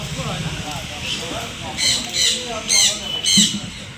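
Caged birds at the Serampore bird market give repeated high chirps and squawks in a busy outdoor setting, heard over steady crowd murmur and talking nearby.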